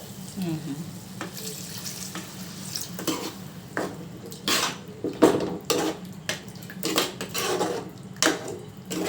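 Water being poured into a cooking pot while making a curry, a running splash with metallic clinks and knocks of the pot, close and fairly loud, while a person talks nearby.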